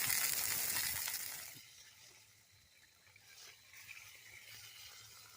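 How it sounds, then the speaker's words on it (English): Steak sizzles in a hot cast iron cold-handle cowboy skillet outdoors at a bushcraft campsite. A loud, hissing burst of searing at first fades to a quieter, steady crackle and sputter. "Y'all hear how hot that skillet is?"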